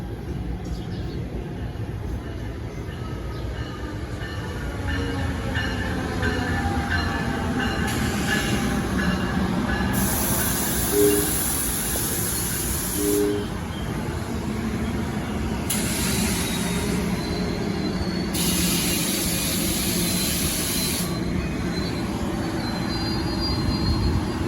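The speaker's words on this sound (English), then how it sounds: "We got another northbound express train." A northbound express train on the Northeast Corridor rushes through Princeton Junction station with a loud, sustained roar of rolling wheels. High wheel squeals and bursts of hiss come and go as the cars pass close by.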